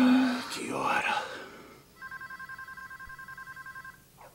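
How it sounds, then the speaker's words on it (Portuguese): A telephone rings at night in a quiet bedroom, giving a steady series of close electronic trill bursts. Soft murmured speech comes first, then the ringing plays alone. "Ai, Billy, atende"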